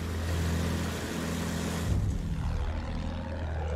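Engine of a plane in the video game Battlefield 1: a continuous, loud droning hum that shifts briefly in pitch midway, then settles back into a steady roar with no talking.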